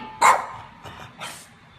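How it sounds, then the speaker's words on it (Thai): A dog barks sharply indoors, one loud bark followed by two softer, shorter yips about a second apart, with no voices over it. "ทำไมต้องเห่าด้วย"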